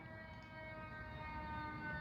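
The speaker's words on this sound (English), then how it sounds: "There was like a loud ambulance out there" An ambulance siren wails faintly from outside, a steady sustained tone held over low background rumble, distant and alone without speech.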